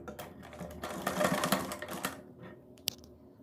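A sewing machine runs in quick, steady bursts of mechanical chatter while stitching a strip of fabric onto the neckline of a kurti, fairly quiet and close, ending with a sharp click.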